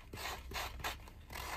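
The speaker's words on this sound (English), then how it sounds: "Take out your emery board or..." An emery board filing the ridged edges of paper during a tissue box journal craft, giving three rhythmic raspy strokes close up with no talking.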